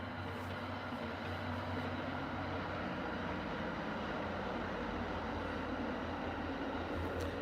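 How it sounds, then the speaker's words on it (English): Short train passing near a bunker, a broad, steady rumble and rolling roar that holds at the same loudness for several seconds without a horn. "You guys get to hear a train."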